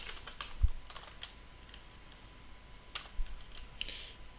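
Typing code on a computer keyboard: a close, quiet, uneven patter of key taps with a few sharper clacks, no voices.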